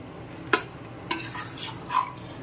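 Mutton curry with potatoes being stirred in a pan: a few distinct scraping clinks of a utensil against the metal over a low background sizzle.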